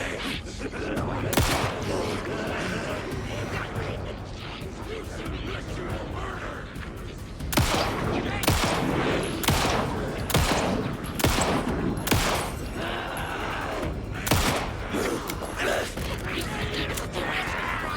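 Video game gunfire in Alan Wake 2, a long run of sharp shots going off in clusters over a constant background ambience, louder, denser bursts in the second half, with some speech mixed in.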